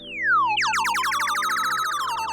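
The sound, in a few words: DJ controller laser effect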